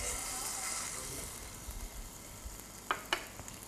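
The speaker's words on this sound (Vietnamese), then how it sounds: "Chúng ta chiên cá." Salmon pan-fries in olive oil in a Da Nang resort kitchen, giving a steady close sizzle that eases slightly over time, with a couple of sharp utensil clinks near the end.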